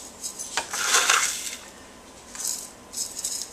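Dry roasted wheat grounds scooped into a percolator, producing a few separate gritty, rattling pours in quick succession, close and fairly crisp, with short quiet gaps between scoops.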